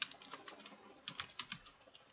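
A computer keyboard clatters with quick, quiet keystrokes as a name is typed into a text box, irregular clicks in short bursts.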